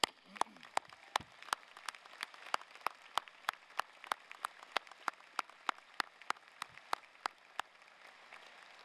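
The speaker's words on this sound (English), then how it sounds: "Let's give them a round of applause, please." At a high school commencement ceremony, a single pair of hands claps sharply and evenly, about two claps per second, close and crisp over a quiet room.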